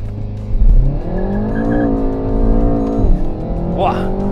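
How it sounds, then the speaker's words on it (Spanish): A Renault Megane RS Ultime doing a launch control start, its engine revving hard and then pulling through rising gears while the tires spin and squeal briefly at launch, loud and close, with someone talking over it. "Pulsamos para activar el Launch Control las dos levas. Se activa, gas a fondo"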